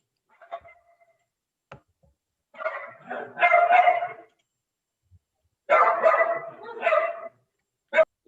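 A small dog barks and yips in several short clusters with quiet gaps between, fairly close, ending in one sharp yap.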